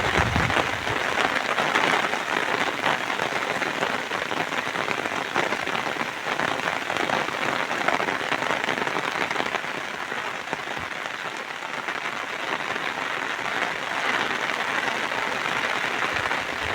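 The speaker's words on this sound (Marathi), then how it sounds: "ढग बघा भिजवते मला पाऊस" Steady rain pours down on a hillside in the countryside during monsoon clouds, a dense continuous hiss of drops lasting throughout with no talking.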